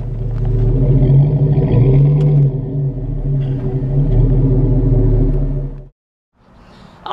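A car's engine rumbles steadily at close range in a body repair shop while the vehicle with the bumper repair is moved to the finishing department, a low, loud drone that cuts off abruptly near the end.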